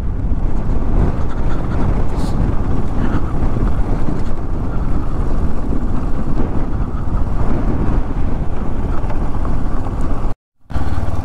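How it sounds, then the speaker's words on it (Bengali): Cold, dusty wind blowing in Lower Mustang, Nepal, a loud, constant roar and buffeting rumble across the microphone that continues almost without pause and briefly cuts out near the end. "প্রচণ্ড ধুলো উড়ছে, ঠান্ডা হাওয়া।"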